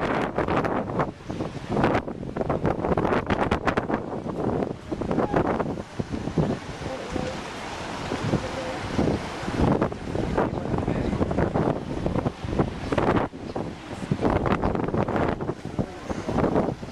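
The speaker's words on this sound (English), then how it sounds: "Very windy." Strong wind buffets the microphone outside an aquarium in Seattle, a loud, continuous gusting roar with rumbling low noise that persists throughout.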